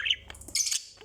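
A pet budgie parakeet lets out quick, high squawks and chirps, a few short bright calls in about a second, close and moderately loud indoors.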